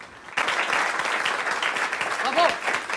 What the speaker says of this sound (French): On peut le voir dans le bravo sans gêne de Walter lorsqu'il applaudit la performance d'Erika.